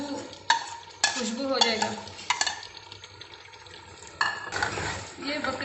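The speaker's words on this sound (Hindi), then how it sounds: "10 मिनट तक मैंने अच्छे तरह से बुनाई कर ली" Mutton pieces for a goat meat salan, with oil and chopped coriander stems, are stirred and fried in a pot: metal clatters and scrapes over a soft sizzle, while someone talks briefly.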